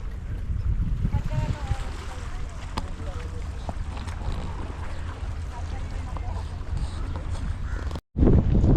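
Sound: strong wind

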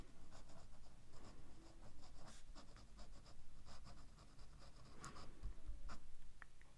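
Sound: Montblanc 146 fountain pen writing on paper

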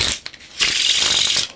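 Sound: playing cards being shuffled

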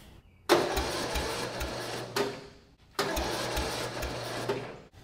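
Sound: lawn tractor engine cranking slowly on a weak battery

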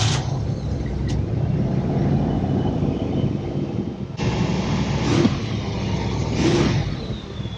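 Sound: car engine idling

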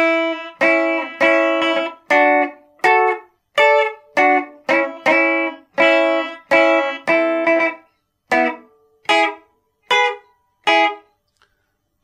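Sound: guitar solo played

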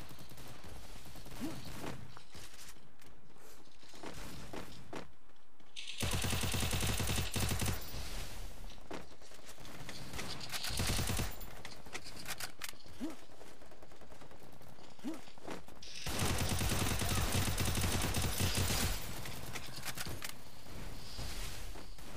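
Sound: gunfire in the video game Free Fire MAX

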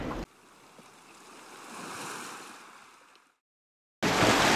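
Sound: sea waves from a passing boat's wake

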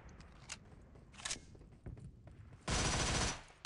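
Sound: pistol gunfire in a video game

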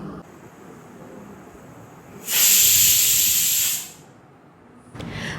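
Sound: pressure cooker whistling, releasing steam

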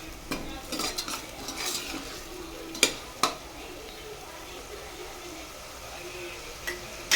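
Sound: stirring ginger garlic masala frying on low flame

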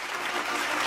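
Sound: audience applause for award presenters

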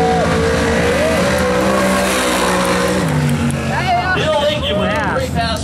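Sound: Chevrolet Nova drag car making a quarter-mile pass

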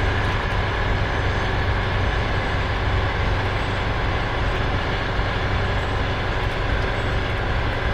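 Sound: Astrakhan–Moscow passenger train passing

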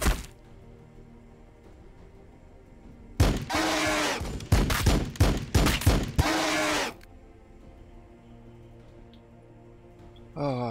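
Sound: gunfire in video game Warhammer 40000 Battlesector

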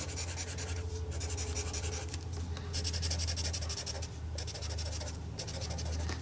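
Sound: scribbling with a pen on paper

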